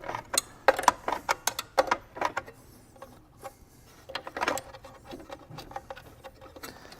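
A narrow wrench works the holding nut off an Ascaso Dream espresso machine, producing a series of close, quiet metallic clicks and ratcheting taps in irregular bursts with brief pauses between them.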